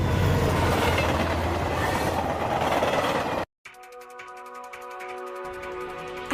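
An animated train runs on its rails, a loud rumbling clatter that cuts out abruptly, then gives way to a quieter rhythmic clicking of wheels over track joints.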